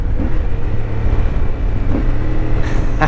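A CF Moto 450 MT motorcycle engine droning loud and steady while riding, with heavy wind rush over the microphone and no pauses.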